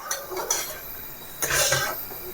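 A metal spoon scraping and clinking against a pan while milk is stirred down into mawa khoya on the stove, with irregular scrapes and a louder burst of clatter midway.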